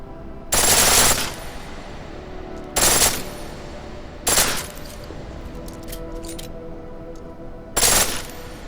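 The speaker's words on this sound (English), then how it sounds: "The pistol in full auto will take down targets fast, but it'll burn through your ammo." Pistol firing in full auto in the video game Deus Ex: Mankind Divided, four loud short bursts of rapid shots separated by pauses of a second or two.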